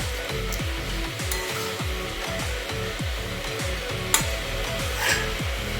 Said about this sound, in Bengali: এবার এটাকে আঁচ কমিয়ে কমিয়ে ঢেকে ঢেকে এটাকে ভালো করে কষাবো